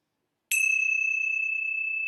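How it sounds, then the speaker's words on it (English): A single bell struck to close a meditation session, a clear bright strike followed by a long sustained ringing tone that decays slowly, heard alone in quiet. "And let's close our time today with the ringing of the bell."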